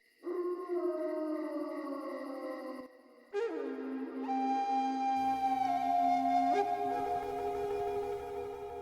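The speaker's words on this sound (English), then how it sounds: "It is his pet's howling that can be heard in the bumper music." A pet wolf's long, wavering howls sit inside a bumper music track, rising and bending over sustained tones, with a short break near the middle before the howling swells again and carries on steadily to the end.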